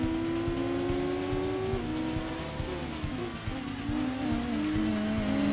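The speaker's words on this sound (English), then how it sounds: "Two Opel Tigra Ice Race versions racing on hot Tahiti on Tahiti circuit." Two Opel Tigra Ice Race cars in Gran Turismo 2 race on the Tahiti circuit, their engines droning steadily at close range with shifting pitch as they change gear, and tires squealing now and then.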